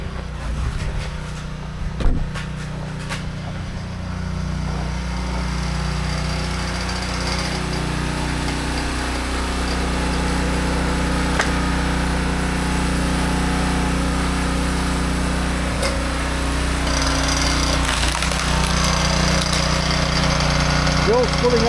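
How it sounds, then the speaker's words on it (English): Beetle kill spruce bundlewood being split outdoors in Alaska, carried by a loud, steady mechanical engine drone with a few sharp knocks near the start, continuing unbroken throughout. "Bill's splitting up some bundlewood"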